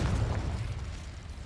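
A fiery Confringo spell blast in the Hogwarts Legacy video game, a loud, sustained rumbling explosion with crackling bursts that holds strong across the whole moment before easing slightly.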